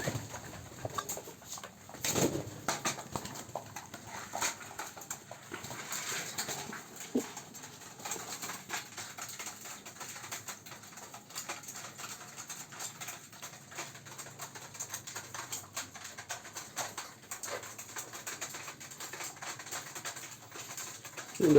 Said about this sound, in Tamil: இந்த சாப்பிடும்போது அந்த சத்தம் டக் டக் டக் டக் டக்னு செம்மையாக இருக்கும்.